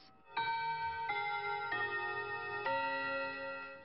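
Traditional mechanical clocks in a clockmaker's shop sound close and clear, with about four struck, ringing tones in steady succession that linger and overlap before fading.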